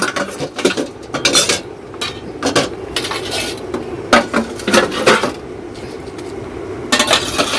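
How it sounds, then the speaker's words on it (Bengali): Metal pots, pans and cutlery being scrubbed and washed by hand outdoors, with frequent clanks and clinks of utensils knocking together over a steady scraping rub, close and fairly loud throughout. "সেগুলো দেখি মেজে নিই অনেকটাই বাসন"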